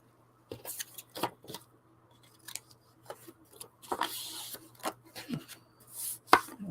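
Big scissors cut paper for collage art cards, giving a close series of sharp, irregular snips and crisp rustles separated by short quiet gaps.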